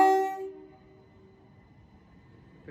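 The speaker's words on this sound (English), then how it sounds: "Departing now is the 1017 C2C service to London Fenchurch Street." A c2c passenger train departs Barking station, a brief horn toot fading quickly into a low, steady rumble of the moving train.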